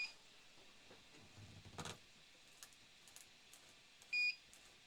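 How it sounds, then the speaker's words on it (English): 3D printer beeping to signal a filament color change partway through printing spinners, a short quiet electronic beep near the end after faint mechanical rustling and clicks, with no talking. "All right, you guys can hear the beeping."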